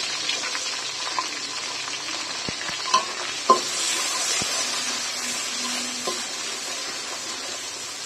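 Onion goes into hot mustard oil with bay leaf and whole garam masala, giving a steady close sizzling hiss with occasional stirring scrapes and light clinks of a utensil against the pan, no voices.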